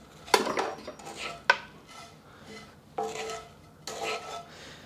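Drained pasta tossed with a garlicky panko breadcrumb mixture produces bursts of metallic clattering and scraping from a utensil in a pan, several separate strokes at close range, fairly quiet overall.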